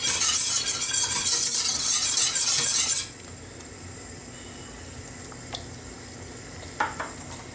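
Sweet and sour sauce thickened with corn flour bubbles in a pan, making a loud, close sizzling hiss for about three seconds that cuts off abruptly, followed by near quiet with a few faint clinks.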